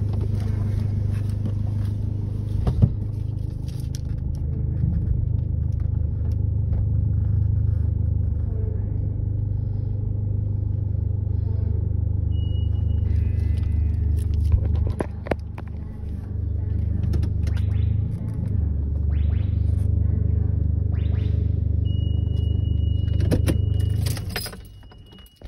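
ProTouch touchless car wash system at a Woodmans in North Aurora, Illinois, running with a loud, steady low rumble, scattered clanks and hissing spray bursts throughout, ending in a brief drop near the close.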